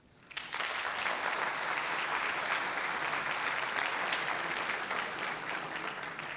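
An audience at a talk breaks into applause, starting abruptly after a brief quiet moment and continuing as steady, full clapping through to the end.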